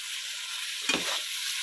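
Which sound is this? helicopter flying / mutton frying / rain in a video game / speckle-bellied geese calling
mutton frying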